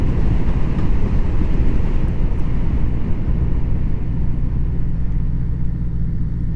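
A 1981 Honda CB750C motorcycle engine running close by, a loud steady low rumble that eases slightly as it idles down after the clutch is pulled in.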